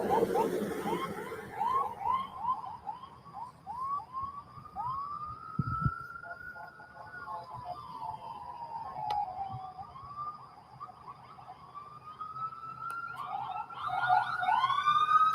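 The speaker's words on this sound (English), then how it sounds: "It's the ambulance." An ambulance siren wails in a rising and falling pattern, heard faintly at first then growing clearer, over a noisy scanner-radio background with a sharp burst of static partway through.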